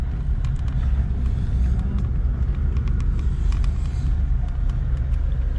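A vehicle towing a Bushtracker caravan rolls past on a dirt track, a loud heavy low rumble of engine and tyres close by, with faint rattles and clicks on top.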